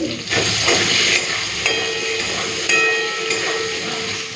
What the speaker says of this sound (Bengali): ওই তেলের মধ্যে দিয়ে দিচ্ছি গাঁঠি কচু গাঁঠি কচুটা নুন আর হলুদ দিয়ে একটুখানি ভেজে নেব